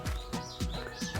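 Soft bird calls and chirps repeat in a quick rhythm, faint and somewhat distant, with no talking.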